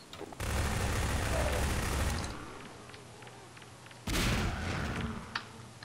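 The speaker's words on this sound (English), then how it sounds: "Easy with the grenades there." Grenade explosions and gunfire in Half-Life 2 at Ravenholm: a heavy blast opens a roaring burst that fades into scattered gunshots, then a second loud explosion hits with crackling shots after it.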